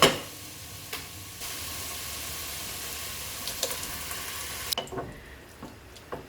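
Canned tomatoes going into simmering bolognese mince in a pan give a steady sizzling hiss throughout, with a few soft knocks and splashes near the end.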